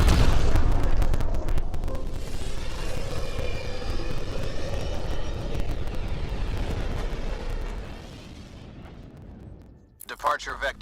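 The Tempest spaceship departs in Mass Effect Andromeda with a loud, rumbling engine roar that thunders steadily, gradually fades away, then ends with a short electronic burst.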